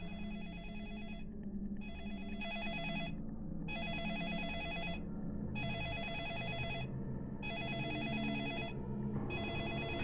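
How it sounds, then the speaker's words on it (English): A telephone rings repeatedly in the video game Deadly Premonition, in a lumber mill, sounding as regular bursts of trilling bell tones separated by short pauses over a low background hum, clear and alone. "Another phone call."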